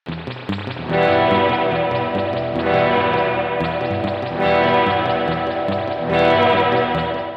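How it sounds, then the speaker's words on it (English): An Ibanez Artcore hollow-body electric guitar with a Bigsby vibrato bridge plays loud, sustained strummed chords every couple of seconds, each ringing out with wavering pitch bends and heavy reverb. "To add wavy vibrato strums, I'll be using my hollow body Ibanez Art Core because I find the Bigsby bridge to be very useful"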